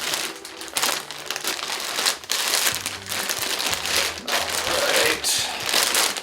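Plastic wrapping around a Logitech G27 racing wheel crinkles and crackles loudly up close in uneven bursts, with a person speaking briefly over the rustling.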